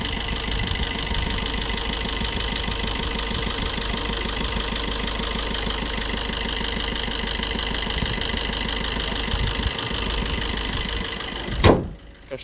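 A 2016 Maruti Baleno Alpha diesel idles steadily and up close with an even, knocking diesel rhythm. A sharp click or thump comes near the end.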